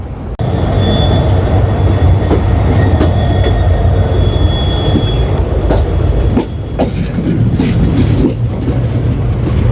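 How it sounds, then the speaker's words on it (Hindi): The 15928 New Tinsukia–Rangiya Express pulls out of New Tinsukia railway station in Assam in light rain, its loud rumbling wagons rolling close by with rhythmic clacks, metallic squeals and a faint high whine, continuous throughout. "सो हमारा डिपार्चर यहाँ पे हो रहा है, यहाँ पे from new Tinsukia railway station."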